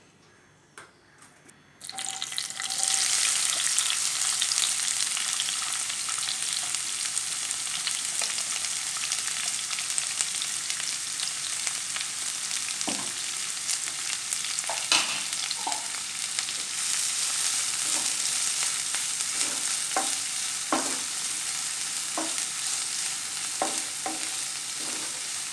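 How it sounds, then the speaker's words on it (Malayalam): Cashews, raisins and onions for biryani fry in hot oil with a loud, continuous sizzle after a quiet start, broken by occasional stirring clinks. "നമ്മളിനി കാഷ്നട്ടും മുന്തിരിയും അതേപോലെ തന്നെ സവാളയും ഒന്ന് ഫ്രൈ ചെയ്തെടുക്കാനുള്ളതൊന്നും ചെയ്യുവാണോ."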